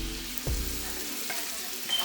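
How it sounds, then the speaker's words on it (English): Crawfish, called mud bugs, sizzle steadily in a hot skillet, a close, continuous hiss with a soft low thump near the start. "She just put mud bugs in a skillet."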